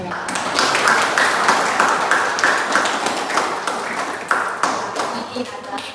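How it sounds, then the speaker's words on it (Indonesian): An audience at an Indonesian student community program on anti-corruption education claps together, a dense, steady wash of hand claps lasting several seconds with some crowd voices mixed in. "Jadi sebelumnya tepuk tangan dulu untuk kita semua."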